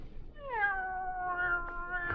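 A cat meows in an old-time radio drama, one long drawn-out, rising-then-steady meow that fills the moment, close and clear with no talk over it.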